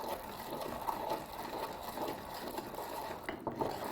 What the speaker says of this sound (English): proceed to go round the sides of your pestle and mortar